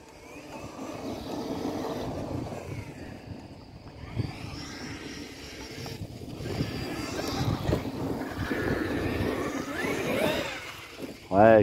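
A heavy Traxxas X-Maxx RC truck drives around at home, its electric motor droning steadily with surges and dips as it manoeuvres, fairly close and without clear talk.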